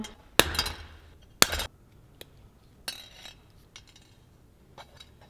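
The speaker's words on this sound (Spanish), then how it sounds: "Voy a obtener alambre de esta percha vieja." Wire is cut from an old clothes hanger with two sharp, loud metallic snaps near the start, followed by lighter clinks and small handling noises that fade away.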